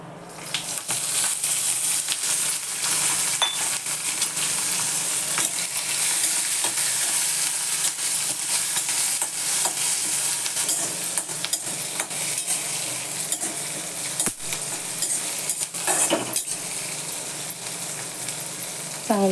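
Green chilies roasting in hot oil in a pan for chili thecha, a continuous close sizzle and crackle with occasional stirring clinks and scrapes, with no talking.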